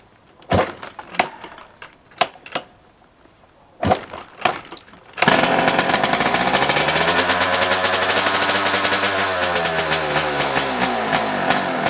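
After a few sharp kicks and clunks, a kick-started TM 300 two-stroke motorcycle engine sputters to life and keeps running loudly with a rapid, buzzing, crackling idle.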